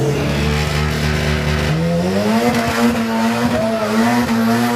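A car races down a drag strip at a Killarney drag day, its engine screaming loud and close as the pitch climbs through gear changes, with a brief tire squeal and a sustained high rev near the end.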